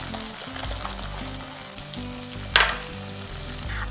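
Chopped capsicum cut into large squares drops into hot oil with spices, setting off a steady close sizzle with a sharp hissing burst midway and continuous frying underneath.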